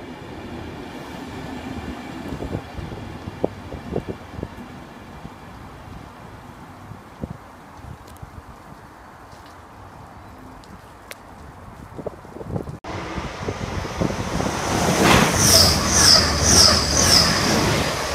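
An East Coast train passes Stevenage station with the DVT leading: a faint distant rumble with occasional clicks builds into a loud, close rush of wheels and rail noise with rhythmic beats and high squeal as the carriages go by.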